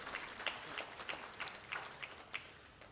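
Audience at the opening of the 46th Sabasaba international trade fair clapping, a sparse, fairly faint patter of separate claps in an uneven rhythm, heard from a distance.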